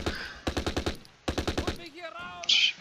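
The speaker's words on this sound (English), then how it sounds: "Our machine gun seems to have great fire lines for some reason." Two quick, sharp bursts of machine gun fire crackle close by in the war strategy game Close Combat: Last Stand Arnhem, followed by a short whooshing, chirping effect.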